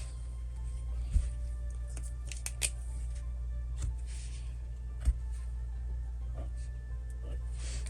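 Scissors cut quarter-inch elastic in a few scattered snips, with small crisp clicks and rustles over a steady low background hum and no speech.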